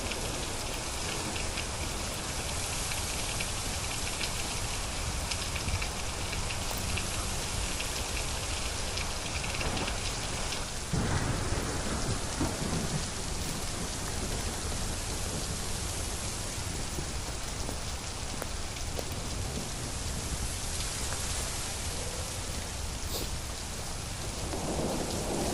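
Heavy rain pours without a break over a wooded city dog park during a thunderstorm, a dense close hiss of drops with a low thunder rumble near the middle.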